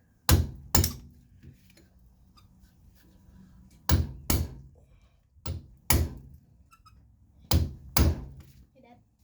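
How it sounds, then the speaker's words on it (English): A hammer and drift striking a stuck suspension shaft, sharp metallic blows landing in pairs roughly every two seconds, loud and close, with quiet pauses between. "Let's give it a whack."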